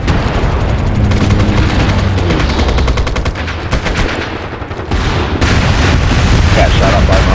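Heavy, sustained automatic gunfire and booming blasts from a squad shooter video game, loud and close, rattling almost continuously with a brief dip in the middle before resuming.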